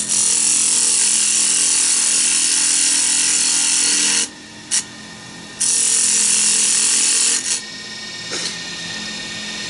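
A wooden medallion spins on a lathe while a detail gouge cuts it, giving a loud, steady shaving hiss and whir that breaks off briefly twice when the tool is lifted, then resumes.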